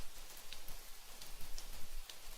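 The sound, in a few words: rain falling in a cartoon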